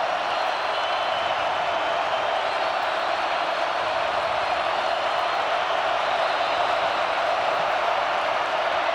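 Sellout stadium crowd at a college football game between Kansas State and Colorado, a dense, continuous roar of cheering and noise that holds steady throughout without letting up.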